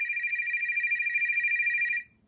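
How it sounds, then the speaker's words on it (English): A telephone rings with a steady, continuous electronic trill for about two seconds, close and clear, then cuts off abruptly, leaving near silence. "there was a phone call."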